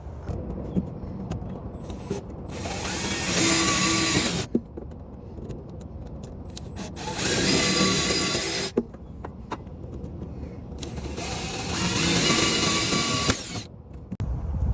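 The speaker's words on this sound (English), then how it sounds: "start getting these drilled out" A power drill whirs in three long bursts with short pauses between, loud and close, drilling out a Jeep JK for a fuel cell access hatch, with clicks and handling noises in the gaps.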